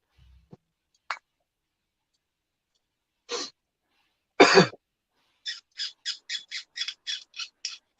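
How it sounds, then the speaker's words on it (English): A pet parrot squawks during a model-building event, giving a few scattered harsh calls and then a quick run of about ten short, evenly spaced squawks. The calls are clear and fairly close, with no talk over them. "Sounds like someone's got a parrot."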